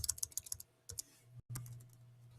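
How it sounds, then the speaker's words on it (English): Keys clicking on a computer keyboard as a search term is entered, in short quick bursts of taps followed by a brief pause and then steady faint background hum, close and fairly quiet. "in this search bar, you need to type in Flipgrid"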